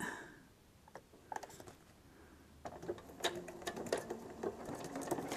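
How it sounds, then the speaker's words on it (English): A sewing machine zigzag-stitching film strips runs in short rattling bursts that grow steadier and more continuous, close by, with a soft mechanical clatter. "we'll change it to the zigzag stitch on the sewing machine. And away we go."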